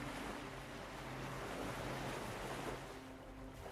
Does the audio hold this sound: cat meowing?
no